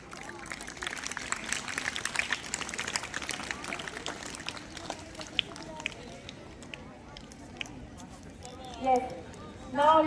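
An audience at a school activity day claps for the judges, a dense patter of many hands that is fairly faint and thins out midway. A voice speaks briefly near the end.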